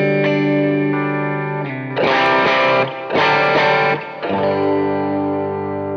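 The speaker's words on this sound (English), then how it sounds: "based on the Dr. Z Root 66 amp. Here's what it sounds like, clean-ish," Clean-ish electric guitar through a Line 6 Helix Dr. Z Root 66 amp patch on the middle pickup, with reverb and delay: sustained chords ring out, broken by bursts of brighter strummed playing, alone with no talk.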